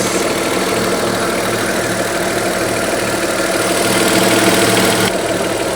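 A 2.4 V6 Audi A4 Cabrio engine idling steadily and evenly up close, a continuous mid-low drone with a faint ticking rattle and no voices.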